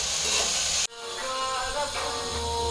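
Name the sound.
pressure cooker steam hissing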